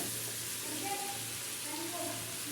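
Cut okra (bhindi) sizzling and frying steadily in a pan at home, a continuous soft crackle with faint stirring, no talk over it.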